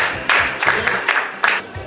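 An audience claps in short bursts at a gathering, several brief rounds of crowd applause separated by quieter gaps, close and fairly loud, with a faint voice underneath.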